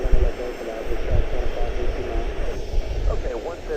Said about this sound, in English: What a beautiful aircraft